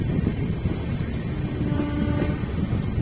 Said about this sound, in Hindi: एकदम डेंस फॉग में ट्रेन चल रही है, इसलिए इतना ज़्यादा स्पीड रेस्ट्रिक्ट हो गई है ट्रेन की